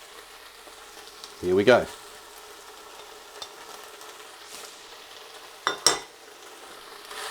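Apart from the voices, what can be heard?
onions sizzling and stirred in Ninja slow cooker after searing beef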